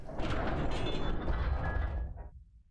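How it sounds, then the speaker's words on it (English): A heavy mechanism loosening behind a stone wall plaque in Pillars of Eternity, a deep rumbling grind with a low thud, sustained briefly before tapering off into silence. "You hear the heavy thud of some kind of mechanism loosening behind the plaque"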